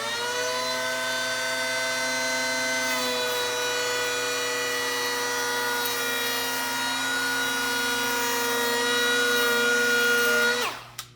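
Battery-powered hand planer shaving a quarter-inch chamfer along a wooden edge, a steady high-pitched whine running loud and unbroken for about eleven seconds, pitch dipping slightly before it spins down abruptly at the end.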